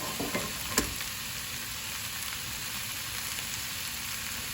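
Two eggs frying in canola oil in a pan, a steady soft sizzle running throughout with a brief clatter near the start.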